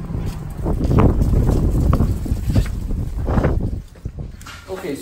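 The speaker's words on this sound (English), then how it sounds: "I came in here to hopefully get out of the wind for you guys and so you can hear me better" Gusty outdoor wind buffets the microphone with low rumbling bursts that rise and fall, mixed with some speech-like sounds.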